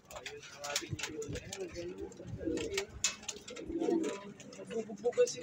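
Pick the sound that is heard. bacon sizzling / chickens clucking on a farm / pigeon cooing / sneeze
pigeon cooing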